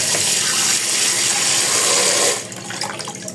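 Tap water runs hard over raw meat in a sink, a loud steady gush that cuts off abruptly near the end, leaving light splashing and handling sounds.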